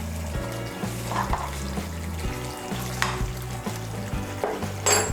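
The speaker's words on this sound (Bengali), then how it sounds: "আর গরম মশলার গুঁড়োটাকে ভালো করে মিশিয়ে নেব" Garam masala powder, green chilli and ghee being stirred into a simmering vegetarian Kashmiri-style potato curry, with a soft sizzle and occasional spoon scrapes over a low tonal hum in the background.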